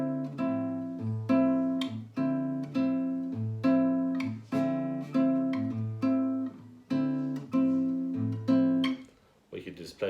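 A simple bossa nova guitar pattern, played legato with a bass note and syncopated chord plucks repeating in a steady, gentle rhythm, close and clear, alone.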